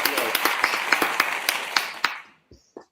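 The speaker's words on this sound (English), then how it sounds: "applause" An audience bursts into brisk, close applause with sharp individual claps at a talk event, fading out after about two seconds, followed by a couple of brief voice sounds.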